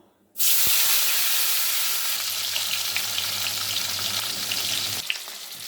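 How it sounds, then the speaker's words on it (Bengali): Chopped tomatoes drop into hot oil tempered with white cumin after fish was fried, bursting into a loud, steady sizzle that hisses on for several seconds, close and alone. "এখন কেটে রাখা টমেটোগুলো দিয়ে দেব।"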